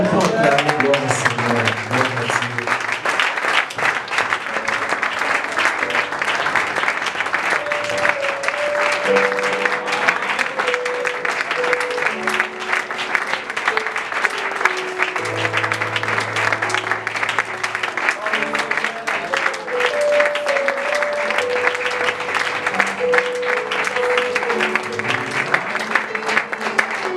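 Church congregation applauding and clapping together over sustained music, with organ or keyboard tones and singing voices continuing beneath the steady, dense applause throughout.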